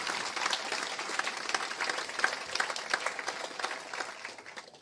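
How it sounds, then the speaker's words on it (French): Sustained applause from an audience at a graduation ceremony, dense steady clapping that holds at a fairly even level before tapering slightly at the end. "une bonne main d'applaudissements pour nos diplômés du programme en sciences de l'éducation"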